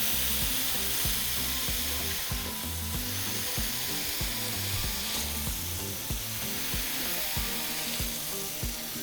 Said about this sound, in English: we're going to begin by cooking our bacon. Okay, and at the same time, we're going to place our meat in there.